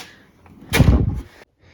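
A bottom drawer of a 72-inch Toolvault tool chest opens with a single loud metallic rolling clunk lasting about half a second, heard up close after a quiet lead-in.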